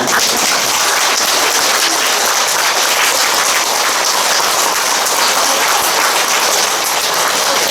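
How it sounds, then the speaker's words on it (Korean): A crowd applauds loudly and steadily at a Buddhist temple Dharma service, the clapping blending into a dense, rain-like patter that holds without a break from start to finish. "우리 총무 스님 일어나셔서 박수 한번 받으시죠"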